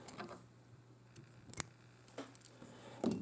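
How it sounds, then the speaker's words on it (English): A single quick snip as excess material is cut away while tying a Gussied Up Lightning Bug fly, faint and close in a quiet room with a few small handling taps. "and I can cut that excess off."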